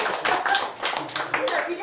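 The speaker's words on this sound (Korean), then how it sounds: "이 대목으로도 박수" Audience clapping at a community meeting in Icheon, Korea: a short burst of separate, rhythmic claps from a small group, heard close with voices talking over it.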